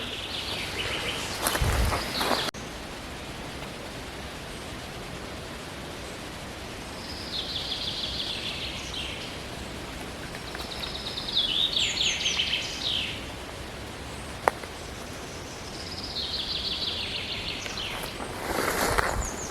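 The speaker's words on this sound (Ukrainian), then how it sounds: "птахи співають. і Дуже приємні звуки в лісі." Birds chirp and twitter intermittently at a distance in a quiet forest while mushroom picking, with a few soft rustles and thumps nearby.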